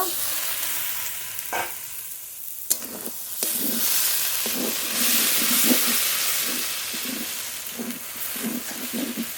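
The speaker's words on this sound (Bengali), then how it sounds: "ঢাকনা তুলে শাপলা নেড়ে নেব" Water lily stems (shapla) being stirred in a pan while they cook for a shrimp shapla bhorta, with a steady sizzle and regular scraping strokes in a repeating rhythm, close and fairly loud, no talking.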